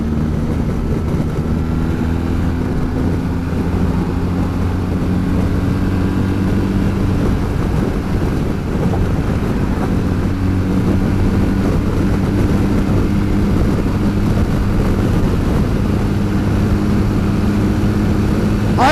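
A BMW R 1300 GS motorcycle rides in Dynamic Pro mode, its boxer engine a steady low drone under constant wind roar with slowly shifting engine tones and no voices.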